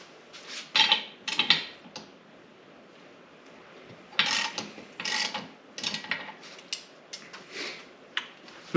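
A socket wrench works the propeller nut on a Mercury outboard motor, with close bursts of ratcheting clicks: two short runs, a pause, then several more quick runs.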